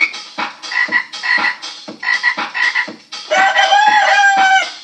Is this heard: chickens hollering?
yes